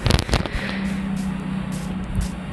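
A sharp burst of crackling blast from a Minecraft creeper exploding at the start, followed by a steady low hum and faint game background noise.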